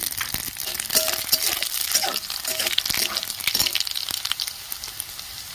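Loud, steady sizzling of cumin and radhuni seeds dropped into hot oil, crackling and popping throughout with occasional light clinks.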